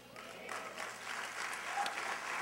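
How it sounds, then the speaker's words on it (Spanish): A church congregation claps together in sustained, dense applause that continues steadily throughout, sounding moderately distant and filling the room. "Dale un fuerte aplauso al Señor"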